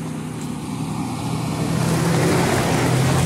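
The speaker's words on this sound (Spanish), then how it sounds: "Ahí viene un coche en putiza." A car speeds toward a hilltop lookout on a road up Cerro de las Antenas, its engine roar swelling steadily louder as it nears, with no talk over it.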